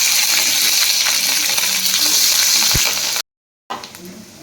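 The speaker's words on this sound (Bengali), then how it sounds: "প্রথমে আমি রসুন কুচিগুলো দিয়ে দিলাম। একটু ভেজে নিচ্ছি।" Chopped garlic and chili sizzle loudly in hot oil in a pan, a dense continuous fry with a single metallic clink, a brief drop to silence near the end, then the sizzle resumes.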